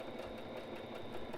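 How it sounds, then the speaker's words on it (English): A sewing machine runs continuously while stitching a pillowcase, a faint, steady whirring hum with light rhythmic pulsing, heard alone. "I'm not entirely sure how fast to run the machine or how slow, conversely"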